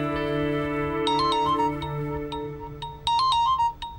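Mobile phone ringtone for an incoming call, a melodic electronic tune of sustained tones with sharp chiming notes, loud and close with no voices.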